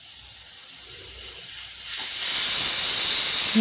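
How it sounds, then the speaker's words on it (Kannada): A pressure cooker on high flame cooking toor dal lets out a steady steam hiss that swells louder and sharper into a sustained whistle partway through. "ಈ ರೀತಿ ಚೆನ್ನಾಗಿ ವಿಸಿಲ್ ಬಂದಿದೆ"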